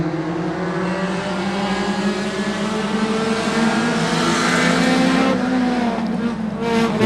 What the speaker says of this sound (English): Wind up those 4 bangers, and off they go.